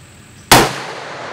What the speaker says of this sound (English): go ahead and shoot one more at 100 for a three-shot group